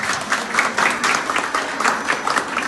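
Dense, continuous applause from the audience at a jewellery showroom anniversary celebration in Surat, featuring performances by physically challenged artists, loud and steady with rippling swells throughout.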